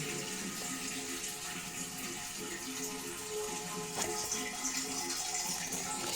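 Water trickles and washes steadily from a VW Passat B8 exhaust-system (DPF/EGR) cleaning, a continuous, fairly quiet rushing that slowly settles, with no voices.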